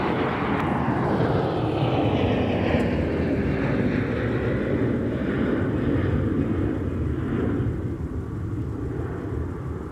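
An airliner departs north from runway 30 right at Minneapolis–St. Paul Airport, its steady engine roar filling the air, loud and continuous and slowly shifting in pitch.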